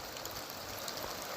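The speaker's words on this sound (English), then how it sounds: "In the rain and fog, on a pirate ship." Steady, faint rain hisses down on a pirate ship as a drama sound effect, a soft even patter with no other sounds.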